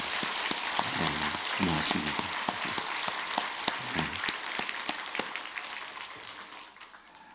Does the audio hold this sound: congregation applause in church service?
yes